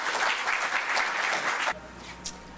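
An audience at a Wikimania 2012 technology talk breaks into full, loud applause that holds steady, then cuts off abruptly, leaving a quiet room with a faint voice.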